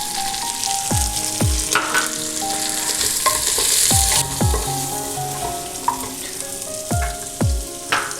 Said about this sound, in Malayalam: ആ ക്യാരറ്റ് ഇതിലേക്ക് ഇട്ട് കൊടുക്കുന്നുണ്ട്.